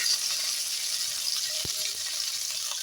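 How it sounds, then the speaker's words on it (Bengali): Salted cauliflower sizzles in frying oil in a pan, a constant close hiss with a few soft pops breaking through, with no voices over it. "ফুলকপি ভাজার সময় অল্প পরিমাণে এখানে নুন দিয়ে দিচ্ছি"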